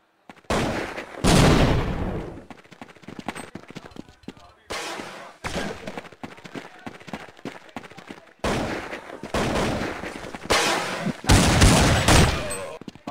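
Bursts of gunfire from a 2013 competitive shooter match, rapid loud volleys in three clusters with brief pauses between, some short single shots mixed in, no talk audible over the shooting.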